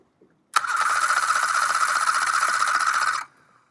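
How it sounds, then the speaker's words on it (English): Outboard motor cranked by its starter with the ignition off so it never fires, a steady whirring, rasping drone lasting about three seconds that starts and stops abruptly. "I've also got the ignition off, so we'll just crank this without it starting"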